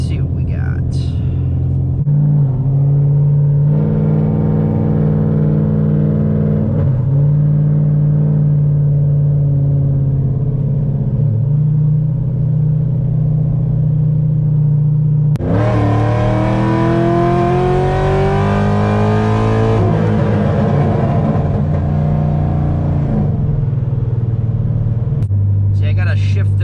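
A Corvette C6 V8 fitted with an aftermarket fuel kit rumbles loudly from inside the cabin while driving, holding a steady drone before revving up hard through rising pitch and shifting, with a voice talking over it.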